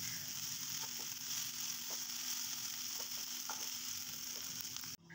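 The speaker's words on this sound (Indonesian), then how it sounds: "Selanjutnya ini kita akan menumis bumbu ya yang sudah kita ulek tadi." Pounded spice paste sizzles in hot oil in a pan with lemongrass and bay leaves, making a steady, continuous crackling fry with occasional stirring clicks and no speech.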